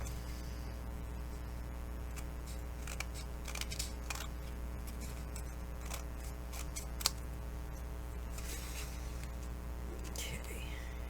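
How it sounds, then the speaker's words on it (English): Scissors trim an upcycled book cover with quiet, scattered snips and small clicks over a low, steady room hum. Nobody speaks. "And I'm going to do it with my scissors because I'm not that crazy."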